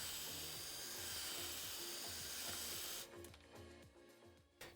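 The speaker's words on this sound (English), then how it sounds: "we're going to take the 3/16" drill bit and drill out the rivet" A power drill with a 3/16-inch bit whirs with a loud, hissing buzz, drilling out a rivet on a Can-Am Maverick X3, pulsing with the work, then easing off as the bit breaks through near the end.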